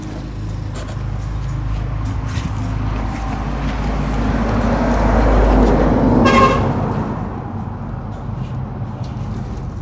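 A single car horn sounds briefly and fairly loudly over a low, steady rumble of idling vehicles on the road, with a few faint knocks before it.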